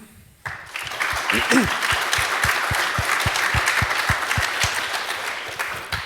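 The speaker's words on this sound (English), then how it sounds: "I think this is a big applause again." A conference audience breaks into loud, sustained applause that starts abruptly and holds steady for several seconds, a dense clatter of many hands in a hall.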